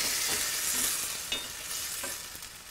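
Peeled tomatoes dropped into a hot pan sizzle with a broad, hissing fry, strongest at first then easing, with a few soft clunks of stirring; no talking.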